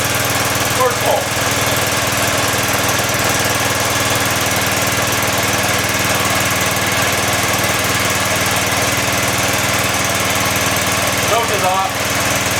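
A Craftsman snowblower engine in need of a tune-up runs steadily and loudly throughout, a continuous droning rumble with a faint voice briefly audible over it.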